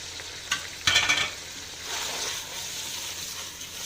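Vermicelli hits hot ghee and oil in a pot and sizzles up, with a couple of sharp stirring clatters early on before the frying settles into a soft steady hiss.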